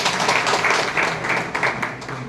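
An audience at a Hindi poetry recital claps together, a dense even patter of many hands, moderately loud and steady with no voices over it.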